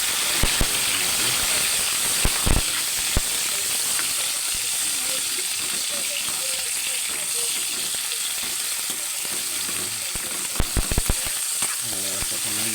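Bitter melon (ampalaya) and shrimp sauteing in hot oil with garlic, a steady close sizzle and hiss with scattered clicks and scrapes of stirring, while voices talk intermittently over it.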